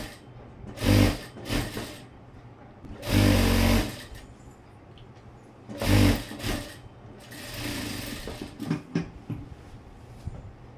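A sewing machine stitches a blouse in short bursts, four or five loud runs of rapid mechanical whirring separated by brief pauses and quieter handling sounds, close by with no voices.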